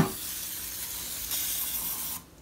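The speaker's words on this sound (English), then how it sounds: "So what you do is you spray it real good" A continuous hiss from spraying de-anodizing cleaner onto aluminum RC car parts, a close, steady aerosol spray lasting about two seconds before cutting off abruptly.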